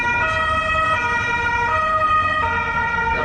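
A loud wailing police siren in Arezzo, Italy sweeps up and down in pitch, close by, with a steady hum of road traffic underneath.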